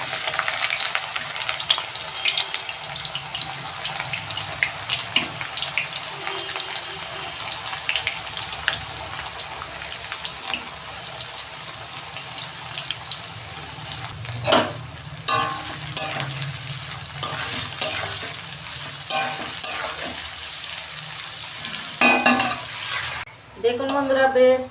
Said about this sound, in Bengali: তেল গরম হয়ে গেছে, আমি পেঁয়াজটা ভেজে নিচ্ছি বেরেস্তার জন্য।